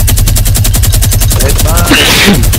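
Sustained machine gun fire in a video game hammers in a fast, unbroken rhythm, very loud and close, with a voice briefly speaking over it near the end.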